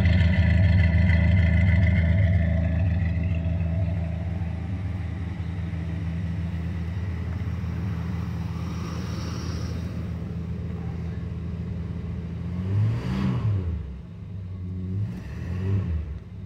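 A 1974 Dodge Dart engine, waking after five years of sitting, runs loud and rough near the microphone, holding a steady rumble before two sharp revs climb and fall near the end.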